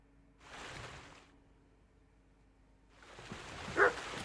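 A dog in the medieval game Kingdom Come: Deliverance 2 gives two short bursts of barking or yipping, separated by a pause and set against a quiet background.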